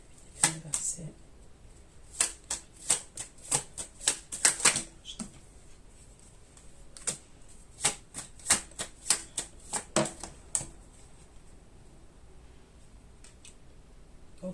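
Tarot cards being cut and shuffled: sharp, snappy card clicks in quick bursts, a dense cluster early on, then a pause and another run of riffling taps, close and fairly quiet with no talk.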